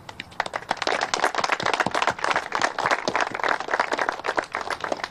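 An audience claps at a tennis court ribbon-cutting ceremony, dense close applause of many hands, steady and lively throughout with no talk over it.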